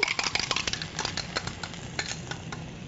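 An egg being beaten fast in a bowl with a hand beater for a spinach omelet, quick, steady clicking and scraping strokes close up, with no voices.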